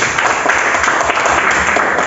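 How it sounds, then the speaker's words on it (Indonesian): A classroom group claps steadily in dense, continuous applause, loud and close, with no pauses. "Oke, tepuk tangan dulu nih."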